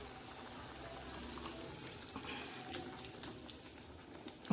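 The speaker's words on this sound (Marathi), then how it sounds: "आणि छान असा बघा मसाला शिजत आहे" Green masala of ground chillies, garlic, coriander, cumin and coriander seed frying in a pan, a soft steady sizzle with occasional small pops and crackles, fairly quiet and close.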